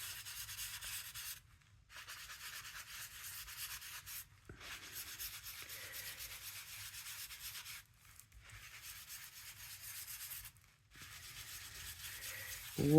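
Oil pastel is softly rubbed out on a surface in long strokes, a faint dry scratchy swishing that repeats in bursts with brief pauses between.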